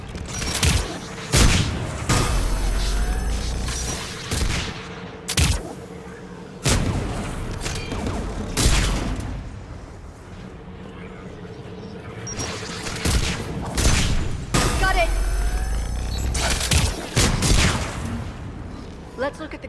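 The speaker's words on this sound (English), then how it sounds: "One of us has to shut down that AA gun" Anti-aircraft gun in Mass Effect Legendary Edition pounding out repeated heavy bursts of fire, loud and close, in clusters with brief lulls, with dense battle noise and booms throughout.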